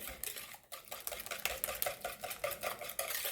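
A whisk beating brownie batter in a bowl, rapid rhythmic scraping taps repeating steadily at close range, fairly quiet.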